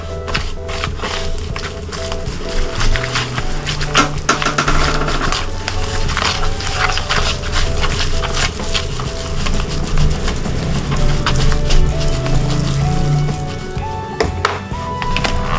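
Martabak telur skin dough batter stirred in a bowl gives repeated soft scraping and tapping clicks over a steady background hum.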